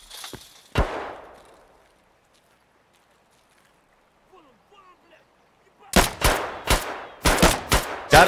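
Pistol gunfire in the shooter game Escape From Tarkov: one sharp shot near the start, then after a quiet stretch a rapid cluster of about eight loud, crisp shots in quick succession.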